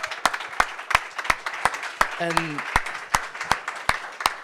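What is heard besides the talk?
audience applause at a hackathon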